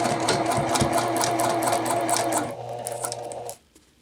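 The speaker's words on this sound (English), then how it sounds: "And I will sew my other seam over here." A sewing machine stitches a jacket bodice seam with a half-inch seam allowance, running steadily with a close, dense mechanical whir before slowing and stopping near the end.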